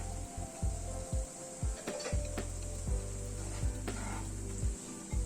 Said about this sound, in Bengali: গ্যাসের ফ্লেমটাকে কমিয়ে কিন্তু মশলাটাকে কষাচ্ছি